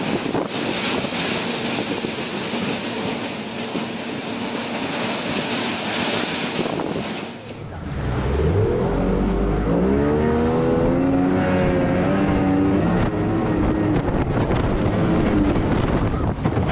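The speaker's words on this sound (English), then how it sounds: "Rough seas turned the deck into a battlefield, with waves crashing hard and testing the strength of the ship." Rough seas crash against a ship's deck amid strong wind, with a steady roar of wind buffeting and surging water throughout, and a heavy low rumble taking over partway through.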